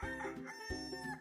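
A rooster crows, a drawn-out harmonic cock-a-doodle-doo that rises and falls twice, clear and fairly quiet, with no talking over it.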